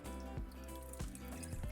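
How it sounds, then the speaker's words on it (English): Two cups of chicken broth poured into a pan while being whisked, a soft, continuous liquid splash with faint rhythmic stirring taps, heard close. "add our 2 cups of chicken broth. Make sure that you're whisking as you're pouring."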